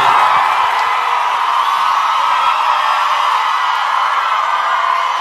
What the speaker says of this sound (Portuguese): Quero pedir uma salva de palmas pro Cristiano e pra Alana